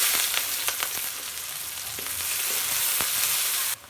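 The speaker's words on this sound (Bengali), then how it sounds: "এবার ওর ভিতরে আর কিছুটা তেল দিয়ে দেব। প্রথমে দিয়ে দেবো পেঁয়াজ।" Onion frying in hot oil in a pan while a fish curry is cooked, a steady close sizzle with a few sharp crackles and spits throughout, no talking.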